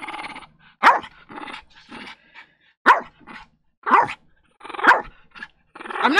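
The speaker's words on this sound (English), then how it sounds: "you gotta stop barking" A dog barks and growls in sharp, close bursts spaced about a second apart, loud and alone, while waiting for a treat at home.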